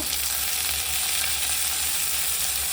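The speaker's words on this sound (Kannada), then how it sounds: "ಮೀಡಿಯಮ್ ಆಗಿ ರೋಸ್ಟ್ ಆದರೆ ಸಾಕು, ತುಂಬ ಏನು ರೋಸ್ಟ್ ಆಗೋದು ಬೇಡ." Tomato roasts in a hot pan for a village-style egg curry, giving a loud, continuous sizzle and crackle of frying close by, with no talking.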